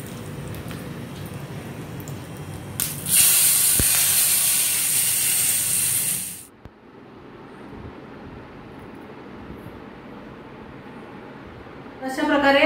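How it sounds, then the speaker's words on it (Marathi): Tempering of spices and fried chillies is poured into hot dal palak, setting off a loud, bright sizzling hiss that lasts a few seconds and then drops away to quieter background noise. "आणि आता मी हा तडका"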